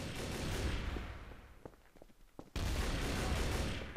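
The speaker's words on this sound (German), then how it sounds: "Hier wird schon geschossen." Dense bursts of rapid gunfire in the multiplayer shooter Trouble in Terrorist Town, loud continuous volleys that thin out to scattered shots before another sudden heavy barrage kicks in.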